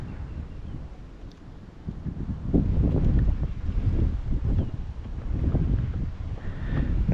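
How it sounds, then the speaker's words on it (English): Strong wind buffeting a microphone on a protected shoreline during kayak fishing, a steady low roaring rumble that surges in gusts with no talk over it. "That wind, guys, y'all see I'm fighting it"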